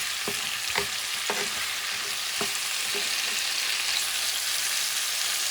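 Bison stew with corn stirred in a pot, a spoon knocking and scraping in a handful of irregular strokes over a constant bubbling sizzle.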